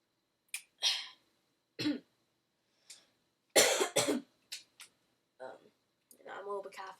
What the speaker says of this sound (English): I'm a little bit coughing.